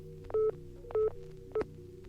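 Regular clean beeps from a phone inside a VRChat phone booth, three short tones evenly spaced, close and clear over a low hum.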